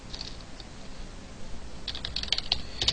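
C++ code being typed on a computer keyboard, a quick close burst of clicky keystrokes that starts sparse and quickens toward the end, with no talk.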